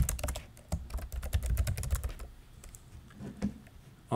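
Fast typing on a computer keyboard, a dense flurry of close clicking keystrokes that thins out into a few slower, scattered taps near the end.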